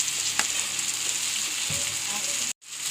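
Tomatoes, green chillies and coriander leaves sautéing for chicken biryani give a steady close sizzle with a few stirring scrapes. A brief dropout comes near the end.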